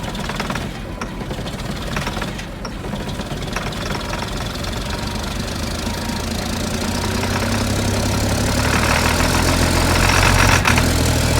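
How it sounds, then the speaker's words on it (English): A 545C wood chipper engine runs on a cold day with a loud, steady, rough mechanical drone that gradually grows a little louder and deeper. "Got the chipper all fired up."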